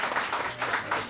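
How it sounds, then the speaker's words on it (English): An audience claps in a round of applause at a swearing-in ceremony for an immigrant and refugee affairs director, a steady close patter of many hands with no voices over it. "Round of applause for my husband."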